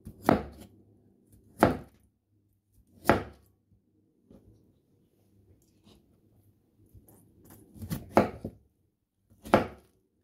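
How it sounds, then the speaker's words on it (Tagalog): A knife cuts thin slices of chayote on a board, giving sharp, crisp single chops spaced a second or two apart, six or so distinct strikes close and clear, with faint handling noises between them. "Ganito po yung paghiwa dito. Maninipis lang."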